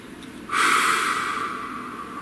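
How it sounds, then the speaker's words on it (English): One close, deep breath is drawn in sharply through the nose and then slowly fades as it is held, with no voices heard. "Please take a nice deep breath."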